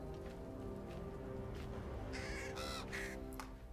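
A raven caws several times in Baldur's Gate 3, harsh calls clustered in the second half over a steady game ambience and low music bed.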